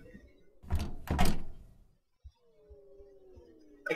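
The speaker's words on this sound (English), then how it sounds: "I can't open the door." A video game door refuses to open, giving two heavy close rattling thunks as it is pulled, then a quiet pause with a few soft knocks and a low droning tone, with no talking.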